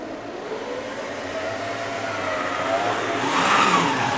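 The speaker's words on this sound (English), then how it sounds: "Just wheel spinning, even though it's got those ribbed wheels" A Tri-ang Hornby model locomotive pulling six carriages with a caboose, its ribbed wheels slipping and spinning, giving a steady close whirring hum that rises and grows louder as it struggles, with no talk.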